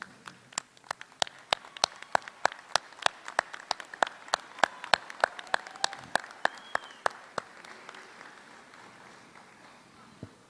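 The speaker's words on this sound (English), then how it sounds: "let's give them a hand of applause." At a Florida State University graduation ceremony, graduates clap in a sharp, regular rhythm of single unison claps, roughly two per second, ringing through a large reverberant hall with faint crowd murmur between them.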